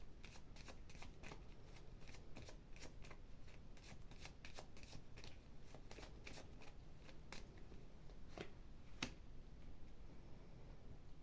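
Tarot cards are shuffled and drawn in a quiet room, a rapid series of soft riffling flicks and snaps close by, with one sharper snap near the end.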